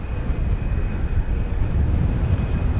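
A Fiji Airways Boeing 787-9 Dreamliner on its takeoff run at DFW Airport gives a steady, heavy engine roar heard at a distance, continuous and without talking.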